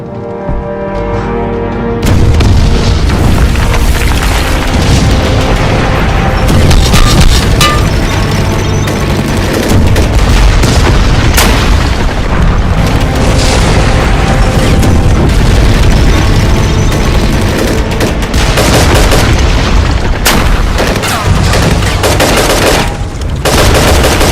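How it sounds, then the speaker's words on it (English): Heavy tank cannon booms and rapid gunfire in a staged Lego war battle in a town, loud and continuous for the whole stretch, with dense overlapping blasts and bursts and no talk. "That sounds like tank fire."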